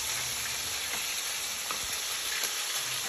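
Salt cod fries in a cooking pot with a steady close crackling sizzle, with occasional soft stirring knocks and no voices.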